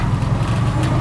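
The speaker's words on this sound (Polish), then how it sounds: "Z pykającym silnikiem." A Fiat 126p with a ticking engine fault runs on the Pamir Highway in Tajikistan: a loud, steady low engine rumble with a fine rapid patter over one second.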